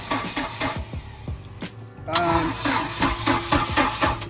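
A car engine cranks with rhythmic starter pulses, then catches and runs rougher and louder, with voices talking over it close by.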